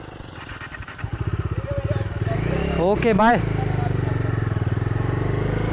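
Motorcycles ridden by a group of passing bikers on a single-lane road, steady engine drone with a louder revving pass near the middle, voices talking over it.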